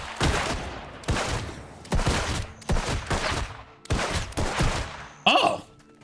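Continuous firing from the Deadeye class in the Black Desert video game, a series of about six heavy gunshot bursts in quick succession with short gaps between them, loud and close, ending on a brighter metallic hit.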